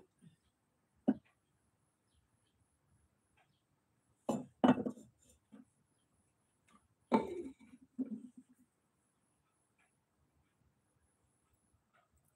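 Pot lids and cooking pots in a home kitchen, including a pot used for making rasmalai and a tea pot, clink and clatter in a few short bursts with quiet gaps between them.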